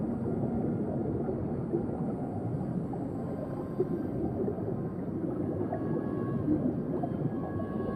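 Low, moaning whale calls echo through a submerged primordial sea in the video game Genshin Impact, layered over a steady watery drone for the whole stretch with no talking.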